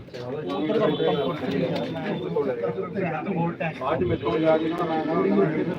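Pigeons in a pigeon loft coo softly and continuously underneath close, prominent men's conversation that dominates throughout.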